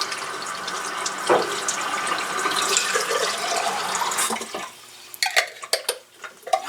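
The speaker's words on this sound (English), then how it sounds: "Use half a jar of water" Water poured from a jar into a cooking pot, a steady rushing pour for several seconds, followed by a few close metallic clinks and knocks of the pot.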